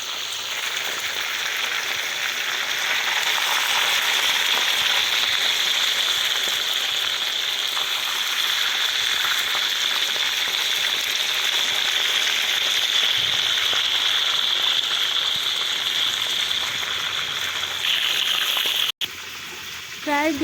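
Chicken cutlets fry in hot oil with a steady, close, hissing sizzle that runs without a break, while someone speaks softly over it.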